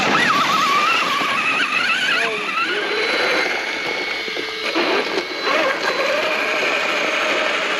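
An Arrma Kraton XL RC car drives back under its own power, its electric motor whining and rising and falling continuously beside loose scrabbling and rattling across the whole stretch.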